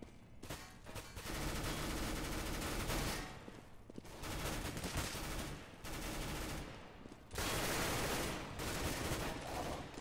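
Gunfire in the video game Counter-Strike: Global Offensive, loud bursts of rapid automatic fire in several long volleys separated by short pauses, with no talk.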